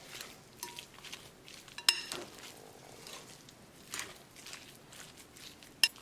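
Soft, quiet stirring of a lamb patty mixture with olive oil in a bowl, a low scraping swirl broken by a few sharp clinks of utensil against the dish.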